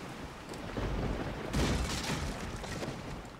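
A thunderstorm rumbles in Resident Evil 4 (Wii edition): steady roaring rain-like noise with a heavier thunder boom swelling about midway, continuous and enveloping.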